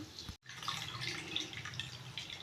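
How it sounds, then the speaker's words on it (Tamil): Lentils being rinsed in water for ven pongal, a steady wash of splashing and trickling water with a brief silent gap near the start, then continuous close sloshing to the end. "இப்போ நம்ம பருப்பை கழுவிக்குவோம்"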